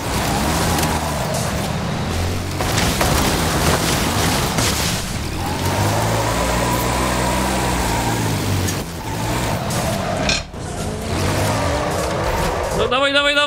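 A heavy Unimog truck drifting in Forza Horizon 5: a loud, continuous engine roar with shifting pitch and revving swells runs throughout, with a sharp rising whine near the end, under excited talk.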